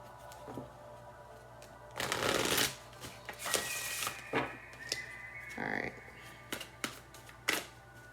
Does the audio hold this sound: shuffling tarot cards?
yes